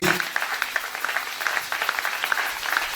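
A church congregation at a Sunday service applauds, many hands clapping together in a dense, steady burst that fills the room.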